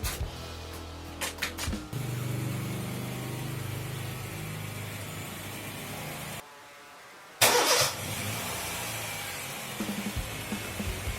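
Car engine running to power a compressor pump through the cigarette lighter socket, a steady mid-pitched idling rumble with a few clunks at the start, a brief cutout, then a sharp burst before the idle resumes.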